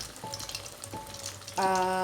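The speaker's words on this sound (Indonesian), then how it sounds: "Ini singkongnya sudah ditiriskan ya, sudah ditiriskan, dan ini saya lagi coba goreng sedikit aja" Drained cassava pieces frying in hot oil for a soft, savoury fried cassava dish, a steady close sizzle with brief stirring clinks and a higher ringing tone toward the end.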